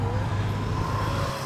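Steady roadside traffic noise as vehicles pass close by, a continuous low engine rumble with a faint tonal whine, no talk.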